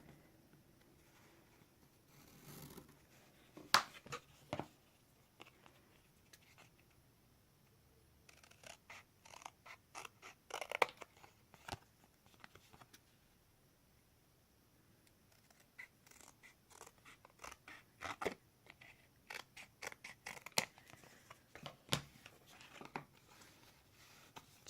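Scissors snipping paper while a gift box is cut out by hand: irregular bursts of crisp cuts and rustling, close and quiet, clustered in runs with pauses between, no talking.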